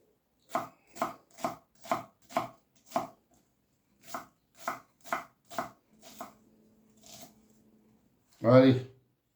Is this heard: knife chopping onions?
yes